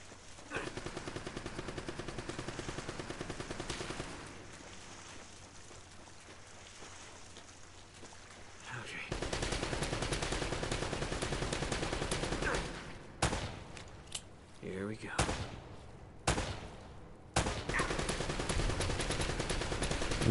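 Bursts of rapid gunfire and repeated single shots from a firefight in the video game Uncharted: Drake's Fortune, loud and sustained at first, then broken into short separate volleys with brief pauses.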